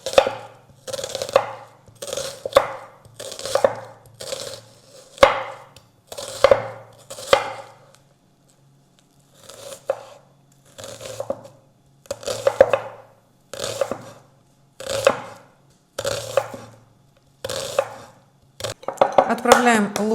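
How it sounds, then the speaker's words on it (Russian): A knife chops an onion into small cubes on a cutting board in a home kitchen, producing close, crisp bursts of rapid taps in a steady rhythm with brief pauses between runs. "Нарезаем мелкими-мелкими кубиками."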